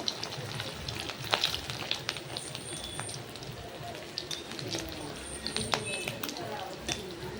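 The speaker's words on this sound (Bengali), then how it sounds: "লো ফ্লেমে যেহেতু আমি বড়াগুলো ভাজছি" Fish roe fritters (machher dimer bora) fry in oil over a low flame, a steady crackling sizzle with scattered sharp pops throughout, heard close with no clear talk.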